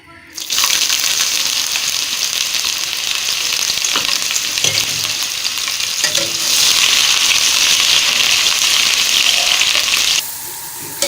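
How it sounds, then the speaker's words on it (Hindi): Onions brown in very hot ghee for a kadhi pakora tadka, a loud, dense, continuous sizzle that swells midway with a few stirring knocks, then drops abruptly near the end. "अब हम इसमें प्याज डाल के ब्राउन करने लगे तड़के के लिए"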